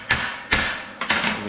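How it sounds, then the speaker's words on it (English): A hammer knocks slag off the back of plasma-cut metal in three or four sharp, close metallic thuds spaced about half a second apart, with no talk. "take a hammer"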